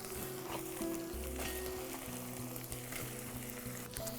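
Eggplant sizzles steadily in a pan with onions that have already been sautéed. The frying runs loud and continuous, with a few light stirring sounds and some faint background hum.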